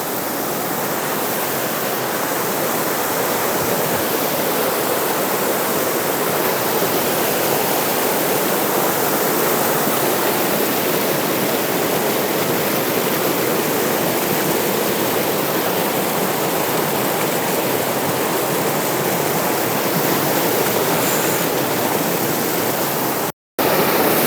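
A waterfall in Rocky Mountain National Park roars close by as a loud, steady, unbroken broadband rush of falling water, constant from start to finish with no voices.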